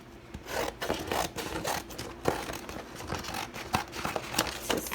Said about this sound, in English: I can use this scrap piece that I'm cutting off